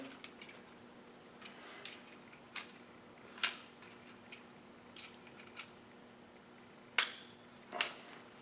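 A punch taps a pin into a Beretta APX pistol frame: several light, sharp metallic clicks at uneven intervals, quiet and close, with a couple of firmer strikes.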